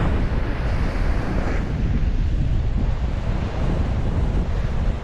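Large sea waves churn and surge around a small outrigger boat in the West Philippine Sea, with heavy wind buffeting the microphone in a steady, loud roar that never lets up.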